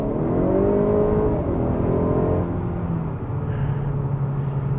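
A 2018+ 10th generation Honda Accord accelerating, engine note climbing in pitch through a gear, then dropping and rising again in a smooth, steady whir heard from inside the car.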